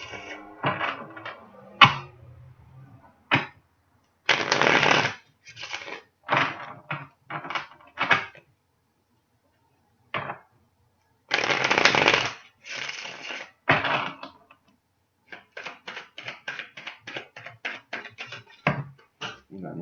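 Tarot cards are shuffled and handled in repeated rustling, riffling bursts with pauses between, close and fairly loud, no voices.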